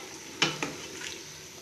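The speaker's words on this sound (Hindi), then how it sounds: "अब इसकी भुनाई होती रहेगी" Meat with ginger and cauliflower stirred and frying in a pot, soft sizzling under two sharp scrapes of a spoon against the metal, close and fairly quiet.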